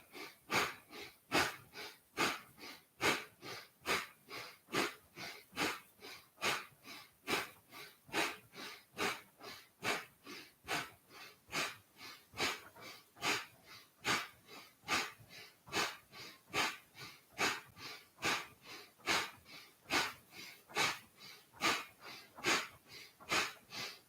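Forceful breaths in a breathing exercise, puffed out in a fast, even rhythm of roughly two per second, close and clear with no talking.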